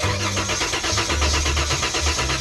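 A minivan engine struggling to start: loud, close rhythmic cranking with uneven low chugging pulses, sustained throughout without catching cleanly.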